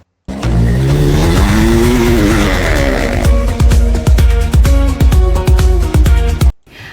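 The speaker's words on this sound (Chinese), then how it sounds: "摩托车漂移的音效" An AI-generated motorcycle drifts across desert sand: a loud engine whine sweeps and rises, then breaks into rapid rhythmic revving pulses with tire-squeal grit before cutting off abruptly.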